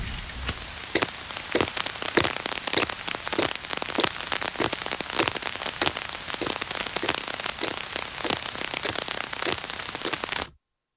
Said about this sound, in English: you hear it transition from rain being around her to rain being on top of the umbrella, and then her walking